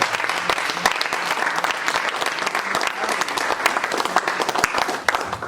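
A church congregation applauds and cheers the Lord in loud, continuous clapping that fills the room for several seconds, with scattered voices blended into the crowd.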